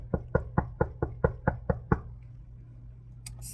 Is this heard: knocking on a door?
yes